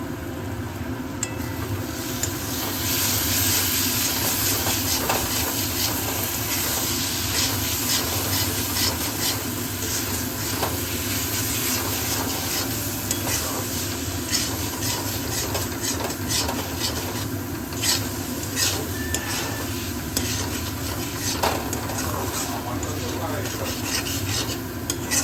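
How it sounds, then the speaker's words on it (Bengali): Boiled potatoes are lightly fried in a pan, a continuous close scraping and stirring against the pan over a soft steady sizzle, lasting a long stretch without voices. "আর এইখানে সেদ্ধ করা আলুগুলোকে হালকা একটু ভেজে নিচ্ছি।"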